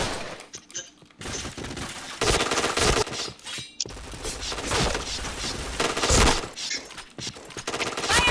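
Rapid bursts of gunfire crack out in a shooter video game during headshot kills, loud volleys separated by short gaps, with game effects and some talk mixed in.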